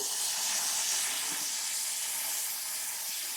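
Tamarind water poured into a pan of hot ginger curry gives a steady, loud hissing sizzle that holds evenly throughout, close up and with no talking.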